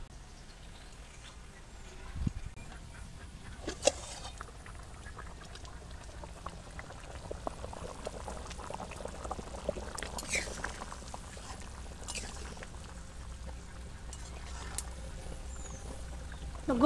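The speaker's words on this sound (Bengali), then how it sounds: "এবার ঢাকনা দিয়ে দিলাম, গোসটা ভালোভাবে সিদ্ধ হোক।" A covered pot of beef curry simmers and bubbles gently, a soft continuous burble with scattered pops and the occasional clink, heard close but faint.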